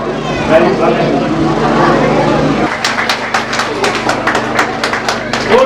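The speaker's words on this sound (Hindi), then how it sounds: "तालियां" Audience at a festival stage event clapping together, a steady run of sharp handclaps near and fairly loud after a stretch of crowd voices and background hum.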